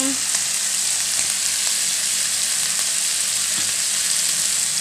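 Pork stir-fries in a pan with soy sauce, a steady, close sizzle with occasional stirring scrapes, continuous and without voices.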